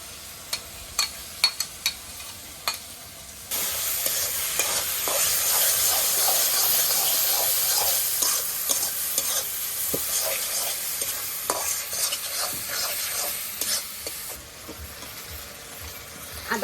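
Chopped onion with spices being stirred and fried in a pan over a village cooking fire, a steady close sizzle and hiss with scraping stir strokes, sparse clicks at first before the frying swells and holds.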